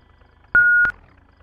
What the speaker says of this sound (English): it beeps when I back up?